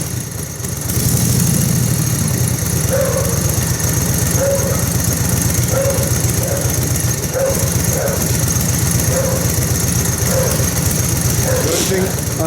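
A 1949 Harley-Davidson WL 45 motorcycle with original paint runs close by, its steady mid-pitched engine churning at a smooth even idle for the whole stretch, loud and continuous.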